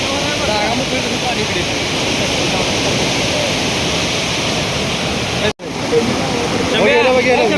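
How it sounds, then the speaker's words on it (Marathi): Fast, powerful floodwater rushes past with a loud, unbroken roar, sweeping away a road and trees, and rising as it pushes inward. Voices speak over the torrent near the start and again at the end. "पाणी वाढलं इकडे पाणी आत घुसतंय"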